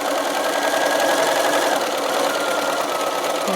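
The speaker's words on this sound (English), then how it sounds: "We're going to start to sew, back tack, and then just sew all along a 1/2 inch" Sewing machine stitching a 1/2-inch seam in a fleece scarf, a steady fast mechanical whirr running continuously and fairly loud, with no talking.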